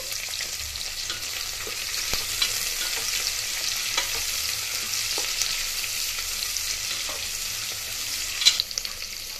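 Thin-sliced onions and slit green chilies fry steadily in oil, a continuous close crackling sizzle with scattered soft pops and a brief louder clatter near the end, no voices.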